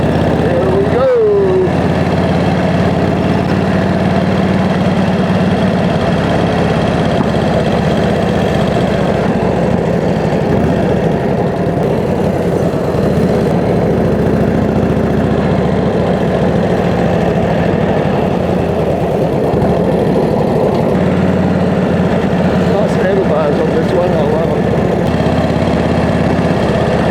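A 1942 Harley-Davidson WLC with a 45 cubic inch engine runs out on the road, giving a constant loud low rumble with wind rush throughout and no clear breaks in the sound.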